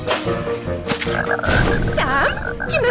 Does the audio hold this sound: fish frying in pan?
no